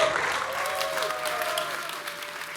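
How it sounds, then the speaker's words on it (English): A conference audience breaks into applause, a dense wash of clapping that starts strong and gradually thins, with a faint voice or tone running underneath. "Let's give a huge round of applause for Gavin Wood."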